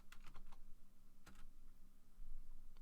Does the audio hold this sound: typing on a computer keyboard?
yes